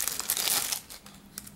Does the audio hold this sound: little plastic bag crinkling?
yes